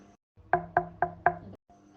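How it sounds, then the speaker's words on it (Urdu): Four evenly spaced, firm knocks on a door ring out close and clear in a cartoon story, with a brief quiet before and after. "اس نے دروازہ کھٹکھٹایا"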